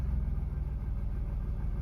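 A car engine is held at a steady fast idle around 1700 RPM while it seems to miss slightly at low revs, giving a close, continuous low rumble with a faint regular pulse and no talk.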